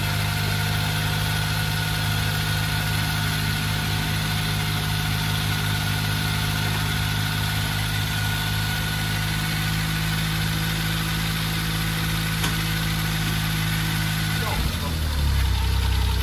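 A Smart City Coupe's small engine idles steadily with a constant low hum and drone, then sputters and changes near the end as it comes off choke.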